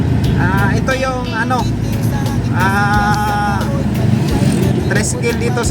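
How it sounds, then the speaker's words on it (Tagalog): A tricycle motor vehicle idles and rumbles along a city street in Surigao City, a steady low engine drone close by with other traffic and passing horns, while someone talks over it. "tricycle dito sa Surigao City"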